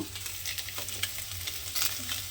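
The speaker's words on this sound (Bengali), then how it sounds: "যে সয়াবিনগুলো আমি এখানে ভেজেছিলাম, সেই সয়াবিনের মধ্যে এই মশলা আর তার মধ্যে অল্প একটু জল দিয়ে দিলাম" A spice and water mixture sizzles on fried soybeans in a pan, giving a close, steady crackling hiss with small bursts of bubbling and some stirring throughout.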